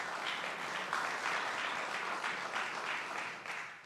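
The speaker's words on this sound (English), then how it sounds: "I'm shamelessly fishing for applause here" A crowd applauds during a governor's speech on New Jersey's state budget, a soft, distant-sounding spread of many hands clapping that swells in gentle waves and fades slightly at the end.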